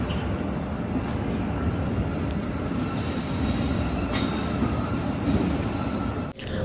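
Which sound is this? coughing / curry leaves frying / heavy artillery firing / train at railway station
train at railway station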